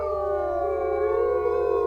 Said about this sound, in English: Everybody's feeling in a howling mood